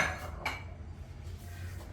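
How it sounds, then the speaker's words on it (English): A microwave bowl handled with gloves, giving a few light clinks and scrapes of dishware up close, with a quiet kitchen background and no talking. "I'm handling the microwave bowl with the gloves"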